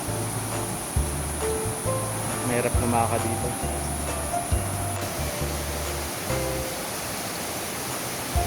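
Rushing high floodwater on a path leading to a waterfall, with a steady broad roar of water running throughout and a person talking over it.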